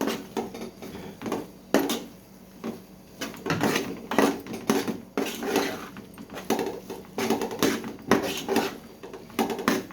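Fried chicken tipped into a pot of cooked semiya, heard as a run of irregular clanks, knocks and scraping from a spoon and vessel, close and moderately loud with short pauses between.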